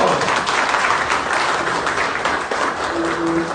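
An audience claps loudly and steadily at the opening of a summer university event, a dense, close wall of applause that holds without pause for the whole stretch.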